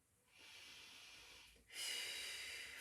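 Two soft, airy exhalations during a slow Pilates mobility exercise, close and quiet, the second breath out stronger and hissier than the first.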